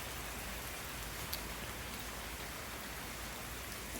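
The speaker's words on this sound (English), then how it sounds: "it's raining because it never rained before here" Heavy rain pours in California, a dense, constant hiss of drops on surfaces heard close by with no talking, holding steady throughout.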